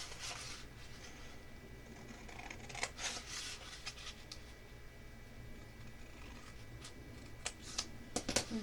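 Scissors snip through a paper scrap while a mini pocket album is made, several quick close cutting sounds clustered in bursts over a quiet background.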